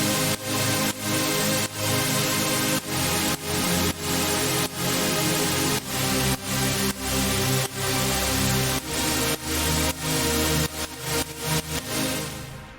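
Dense synth chords in a heavy melodic dubstep track made in Ableton, a loud sustained wall of harmony pulsing in a steady rhythm with sidechained dips, no voices over it.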